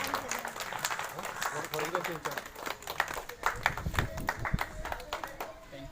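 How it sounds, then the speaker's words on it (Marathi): An audience claps to honour a guest at a Rajarshi Shahu Maharaj birth anniversary function. The irregular, moderately loud patter of hands runs throughout, with voices talking over it. "आपण सर्वजण टाळ्या वाजवून त्यांचा सन्मान करूया."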